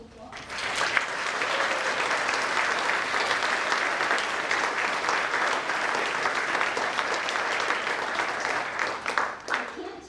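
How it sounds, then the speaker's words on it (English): An audience at a nursing pinning ceremony gives graduating nurses a sustained round of applause, a thick, even roar of clapping that swells quickly, holds for about ten seconds and tapers at the end. "Let's give them a round of applause."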